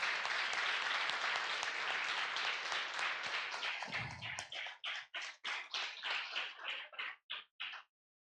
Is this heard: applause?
yes